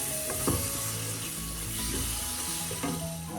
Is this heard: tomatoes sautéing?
yes